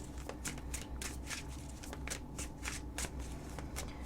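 A tarot card deck is shuffled over and over in quick riffling bursts, a steady crisp rhythm of papery flutters heard close up and alone.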